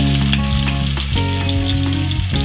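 Onions sizzle steadily in a hot pan while cooking for a Waray bagongon dish, a continuous loud frying crackle with occasional stirring scrapes and no talking.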